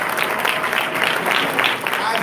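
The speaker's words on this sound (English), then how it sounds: "give him a round of applause anyway" Audience at an awards gala for men of excellence breaking into a round of applause, a brief, dense burst of clapping that stays fairly loud and steady throughout.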